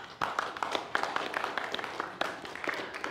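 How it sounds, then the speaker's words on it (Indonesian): Audience applause for a performer at a broadcast discussion event: a steady, dense wash of clapping with scattered sharper claps, sustained throughout at moderate loudness. "Sebelumnya saya minta aplaus dulu untuk Eka Deli"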